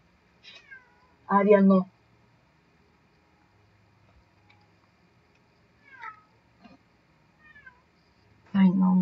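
Pet cat Ariel meows several times, two loud close meows at the start and end with fainter mews between, and a person briefly speaks.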